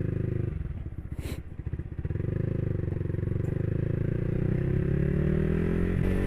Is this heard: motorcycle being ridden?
yes